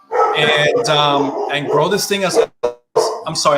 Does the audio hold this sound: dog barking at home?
yes